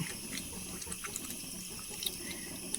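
Soft wet squelching and sloshing as a tomato is squeezed by hand in a bowl of tamarind water, faint and close, with small irregular splashes and drips.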